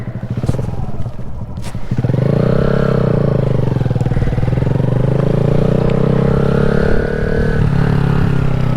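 A 2020 Honda Grom motorcycle engine idles with a few faint clicks, then pulls away into a loud, steady close-up drone that rises and falls slightly in pitch while riding.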